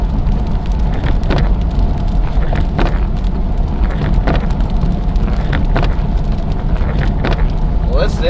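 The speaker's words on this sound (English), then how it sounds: "Listen to that icy windshield" Freezing rain patters and ticks steadily on an icy car windshield during a winter storm, forming a dense, loud granular hiss over a deep road rumble from the moving vehicle.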